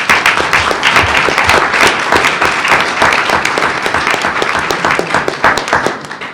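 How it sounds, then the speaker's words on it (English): A room at a public school board meeting gives school finalists a round of applause. Many hands clap in sharp, close, dense bursts throughout, and the clapping thins slightly toward the end. "Let's give them a round of applause"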